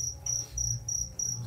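Crickets chirp in steady pulsing bursts by the Mekong River at night in Thailand's Isan region, a shrill, rhythmic trill over a low rumble of distant music.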